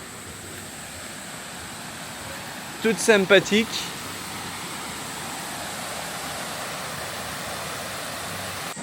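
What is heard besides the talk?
small waterfall flowing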